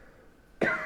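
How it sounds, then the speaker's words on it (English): After a quiet stretch, a single sharp cough bursts out near the end, close and fairly loud. "Sorry, I got a cough for a second."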